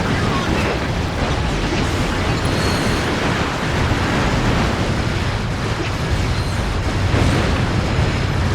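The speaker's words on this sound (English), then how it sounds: "Explosions are pretty." Continuous loud, rumbling roar of overlapping explosions and blasts in the PS2 video game Ratchet & Clank: Gladiator fills the whole stretch, dense and unbroken, with no clear pauses.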